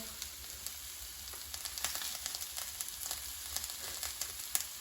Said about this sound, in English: now we can add onions and seasonings to the peppers